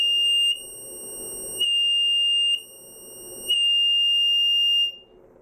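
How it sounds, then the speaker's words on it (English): A small electronic beeper sounds a piercing, steady high tone in repeated on-off pulses. Between loud bursts the tone drops to a muffled, quieter level as its sound hole is covered. "here is the first trick you can do with these beepers. Just in case you find it's too loud for your application, then just cover the hole."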